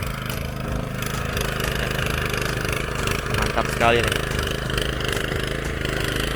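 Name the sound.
Firman FTL620 mini plough tiller engine running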